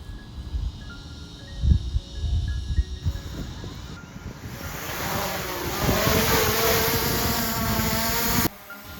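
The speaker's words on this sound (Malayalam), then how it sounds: "ഡ്രോൺ പപ്പടവുമായി ടേക്ക് ഓഫ് ചെയ്തിട്ടുണ്ട്" A drone carrying a pappadam whirs up into a steady, rising rotor buzz in strong wind, loud and close, then cuts off abruptly near the end.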